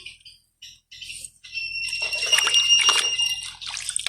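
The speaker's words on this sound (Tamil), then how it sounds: "அதுக்கு முதல் தண்ணியை விடுவோம்." Water is poured into a vessel for washing crabs in a village kitchen, starting with scattered drips and splashes, then swelling into a steady pour with a ringing tone as the container fills.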